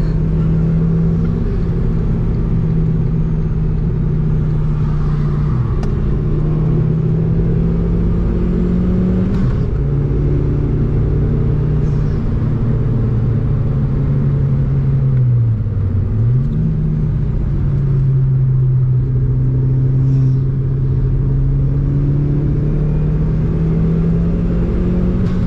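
A Porsche engine drones steadily at a Donington Park track day, a loud sustained hum with gentle rises and dips in pitch, heard close throughout with no talk.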